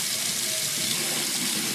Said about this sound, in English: just let the water run through it